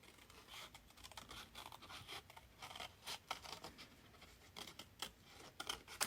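Scissors snip through a paper pocket for a scripture crafting project, giving a run of faint, uneven crisp cuts and rustles close by with no talking.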